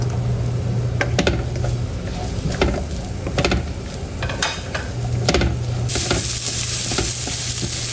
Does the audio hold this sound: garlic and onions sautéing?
yes